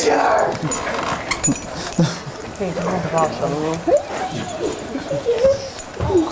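A dog whimpers and whines in rising, pitched cries mixed with short yips and barks on a studio set, close and fairly loud, with people chattering around it.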